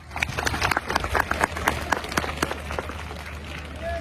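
A crowd at a rural school event applauds the teachers and management committee, a steady wash of many hands clapping with scattered sharp claps throughout, fairly close and sustained.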